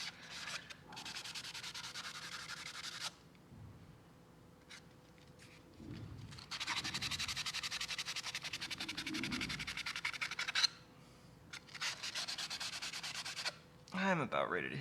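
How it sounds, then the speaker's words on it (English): Sanding of a magnetic pole mount during assembly, in steady, rapid back-and-forth rasping strokes that run in several long bursts separated by short pauses, close and fairly loud, with no talk. "why the hell are you listening to sanding noises?"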